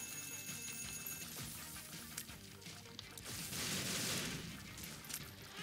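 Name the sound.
explosions in a video game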